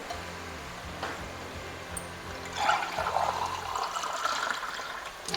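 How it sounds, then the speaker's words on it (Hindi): Water poured into a karahi of browning gosht, starting as a steady mid-pitched stream that rises and continues for a few seconds, close and fairly quiet, with no one talking. "और इसमें डाल देंगे हम पानी"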